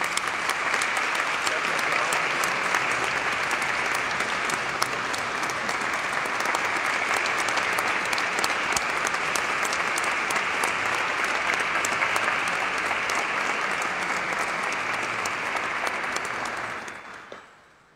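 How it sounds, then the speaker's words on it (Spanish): Strong, sustained applause from a church congregation at a triduum service, a steady dense roar of clapping lasting well over fifteen seconds before fading out at the end. "Te damos las gracias y un fuerte aplauso."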